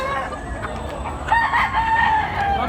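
A bulik gamecock crows nearby, its drawn-out call rising over a low background murmur, with faint clucking around it.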